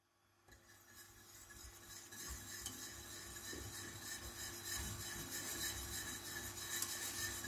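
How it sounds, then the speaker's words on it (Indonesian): A spoon stirs a chocolate pudding mixture in a pot over a low flame as it comes to the boil, making a soft, steady scraping and swishing that grows slightly louder with faint bubbling. "sekarang kita didihkan sambil terus diaduk"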